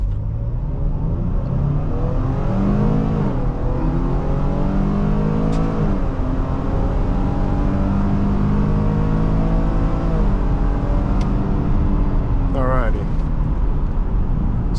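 A 2020 Ford Police Interceptor Utility with a 3.3L engine accelerates hard from a stop, its engine note climbing repeatedly through several gear changes, loud and steady from inside the cabin, with a short high chirp near the end.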